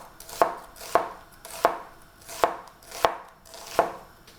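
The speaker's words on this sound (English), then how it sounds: "we're just gonna cut this into slices" Knife slicing a peeled, rinsed onion on a cutting board, six crisp evenly spaced cuts about two-thirds of a second apart, close and clear with no talking.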